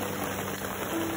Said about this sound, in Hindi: तो देखते हैं कब तक बारिश बंद होगी